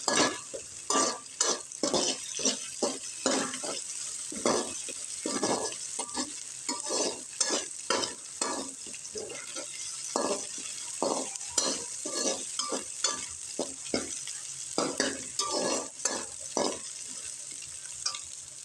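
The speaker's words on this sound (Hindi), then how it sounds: "इनको भी प्याज के साथ ही फ्राई कर लेंगे।" Green chilli, garlic and ginger paste fries with onions in a pan, a steady sizzle broken by repeated scraping stir strokes and occasional utensil clinks, up close with no talking.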